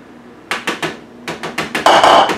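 Food processor pulsing brownie batter of black beans with dry ingredients added, a run of short, sharp bursts, several quick pulses and then a longer louder whir, close and alone.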